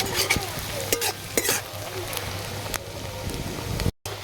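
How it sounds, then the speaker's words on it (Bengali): Plenty of onions frying in a pan until browned, a steady close sizzle broken by stirring clicks and spatters, cut off by a brief silence near the end. "পেঁয়াজটা ভালো করে লাল লাল করে ভেজে নেব।"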